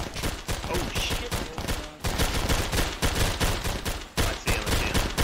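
Rapid gunfire from a video game battle, dense overlapping bursts of shots with short gaps, loud and continuous through the whole stretch.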